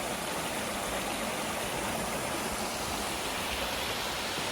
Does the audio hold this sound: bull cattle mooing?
no